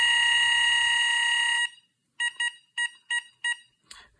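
An RC battery charger comparing Traxxas EZ-Peak Live, Hota D6 and Hitec multi-charger units gives a long, loud continuous electronic tone, then a pause, then a clear run of short evenly spaced beeps.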